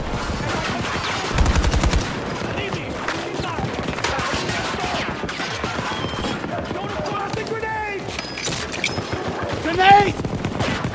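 Rapid automatic gunfire from an AK-24 rifle in Battlefield 2042, dense bursts running nearly throughout with a few heavier booms, mixed under game noise and voices talking.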